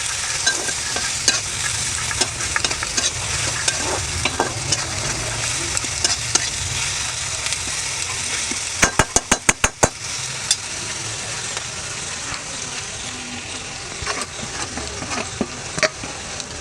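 Onion and garlic sizzle in a pan for a Bengali boal fish curry with potatoes, a constant close frying hiss broken by stirring scrapes and a quick burst of sharp clicks near the middle, no talk.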